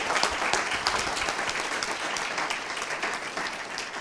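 Audience applause fills a symposium hall after a talk, a steady dense wash of many hands clapping at once, loud and continuous with no voices.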